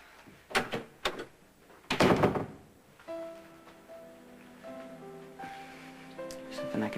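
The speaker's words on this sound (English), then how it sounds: "Please close the door when you go out." A door shuts with a couple of quick knocks and then a heavier thunk, close and fairly loud, in a quiet indoor room, followed by soft music.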